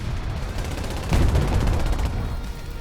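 The SdKfz 222 armoured car's autocannon fires a rapid burst of about a dozen loud, evenly spaced shots in a video game, set against steady background battle noise.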